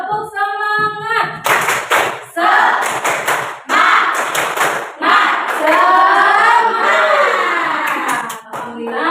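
A group of students claps a rhythmic spirit-clap routine (tepuk semangat) in a classroom teaching session, loud and near, with patterned bursts of hands alongside chanted voices.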